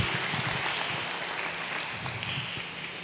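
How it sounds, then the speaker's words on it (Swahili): Clapping from a congregation during a PCEA Thika Town Church Kikuyu service, a fairly faint, continuous patter of many hands with a few sharper claps, no talking over it. "Tupige Yesu makofi vizuri."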